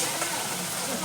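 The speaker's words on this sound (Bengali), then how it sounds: "লবণ দিয়ে এটাকে বেশ কিছুক্ষণ কষিয়ে নেব" Ghughni spice mixture with about two spoonfuls of salt frying in a pan, giving a steady close hiss of sizzling with faint stirring throughout the short stretch.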